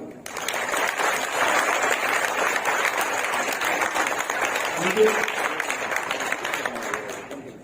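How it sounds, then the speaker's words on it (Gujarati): An indoor audience at a product training program in Botad gives a trainer a sustained round of applause. Dense, even clapping fills the whole stretch, with a voice faintly audible through it midway. "સાહેબ માટે આપણે જોરદાર ફરીથી તાળી પાડીએ"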